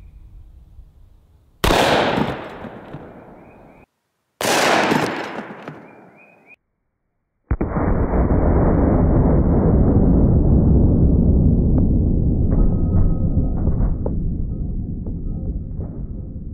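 Two loud .44 Magnum shots firing 300 grain bullets at homemade body armor, each a sharp crack with a short decaying echo, followed by a sustained loud roar of noise.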